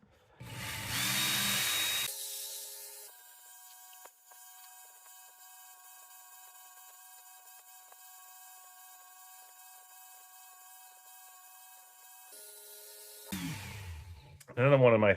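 A Work Sharp Ken Onion belt sharpener with a 65 grit belt grinds a knife: a steady, tonal motor whine with a harsher burst of grinding at the start and again near the end.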